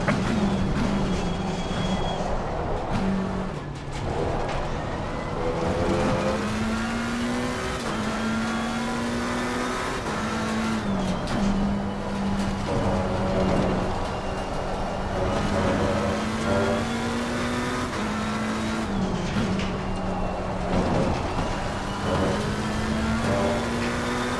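A GT race car in Assetto Corsa Competizione drones steadily as its engine revs rise and fall through gear changes, with another car closing from behind, heard alone and continuously.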